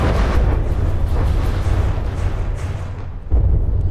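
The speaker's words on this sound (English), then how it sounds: "It's just suffered a massive ammunition explosion up one side." In the naval combat game From the Depths, an ammunition explosion roars as a dense, sustained rumbling blast that dips briefly before surging again, loud and close.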